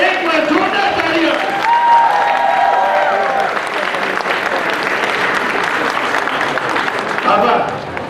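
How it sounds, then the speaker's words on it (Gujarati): Sustained audience applause fills a large hall at a Mahotsav 2025 community festival gathering, dense and steady throughout, with a faint tonal hum and some voices mixed in. "આ ઓછી તાળી સંભળાય છે એમના માટે એકવાર જોરદાર તાળીઓ."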